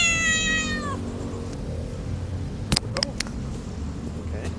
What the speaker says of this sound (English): I get attacked by a cat.